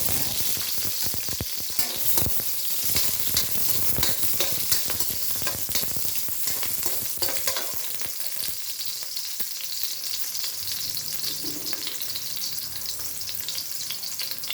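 Onions sauté in a hot pan for a Filipino vegetable stir-fry, a loud continuous sizzle with scraping stirs and clatters of the utensil, strongest early and settling into a steady crackle.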